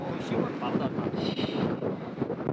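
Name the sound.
strong wind on microphone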